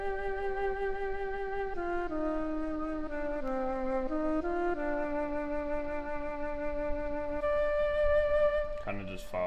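A soft synthetic flute tone plays a slow, smooth melody of sustained notes stepping down and up, with a brief noisy burst at the end.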